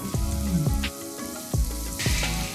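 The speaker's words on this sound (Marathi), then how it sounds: "साधारणतः पाच ते सात मिनिट आपल्याला कांदा परतून घ्यायचा" Onion fries in hot oil with ginger garlic paste for Agari mutton keema, a steady close sizzle with a few scraping stirs of the pan.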